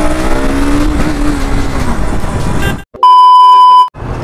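A 2024 KTM Duke 250 motorcycle engine revs loudly and close, its pitch rising and falling in one sustained pull for nearly three seconds. It cuts off suddenly and a loud electronic beep tone follows.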